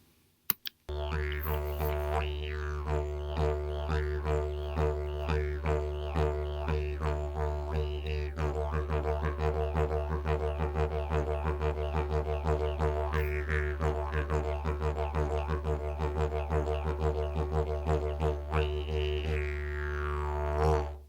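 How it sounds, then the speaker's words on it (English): A droning didgeridoo plays a steady pulsing rhythm, a basic essential didgeridoo rhythm, its deep continuous tone punctuated by regular vocal accents and overtone bursts, close and loud throughout. "What you just heard is one of the most essential rhythms for didgeridoo players"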